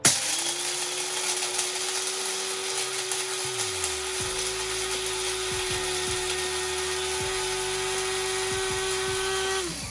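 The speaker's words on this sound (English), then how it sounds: "And I grind that for a while because I'm gonna grind it pretty fine" Coffee beans ground fine, to about table-salt texture, for an Aeropress in a motorized grinder, a loud, steady high whine that runs continuously for the whole stretch with slight pitch dips, close up and alone.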